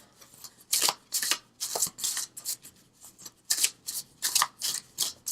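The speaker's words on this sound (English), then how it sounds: "let's pull on the Noah Knafo deck" Tarot oracle cards from the Noah Knafo visionary deck are shuffled up close, a series of crisp, papery riffling bursts in an irregular rhythm with short quiet gaps between them.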